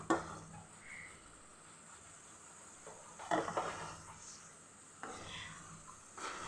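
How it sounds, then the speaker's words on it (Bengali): Pangas fish curry with green chillies is stirred and fried in a pan, with a few quiet spatula scrapes and clinks over a low, faint sizzle. "নাড়াচাড়া করে খুব ভালোভাবে আমি কষিয়ে নিচ্ছি"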